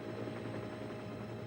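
Steady low mechanical drone of a cartoon helicopter, Harold from Thomas & Friends, buzzing away at moderate distance, a continuous whirring hum with no talking over it.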